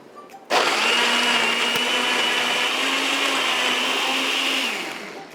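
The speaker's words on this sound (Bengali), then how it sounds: "এখন সব কিছু মিলিয়ে একসাথে আমি ব্লেন্ড করব।" Blender whirring steadily as it purees a mixed fruit and vegetable drink with milk and a spoonful of mint, starting abruptly, running loud and continuous for about four seconds, then winding down.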